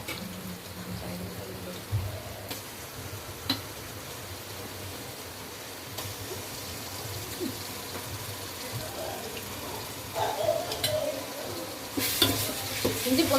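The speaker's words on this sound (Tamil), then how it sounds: "அதை லைட்டாக ஒரு வதக்கு மட்டும் வதக்கிக்கோங்க." Green chilies slit down the middle sauté lightly in a pan for hotel-style biryani, a soft steady sizzle with spoon stirring and scraping, a few louder clatters near the end and no one speaking.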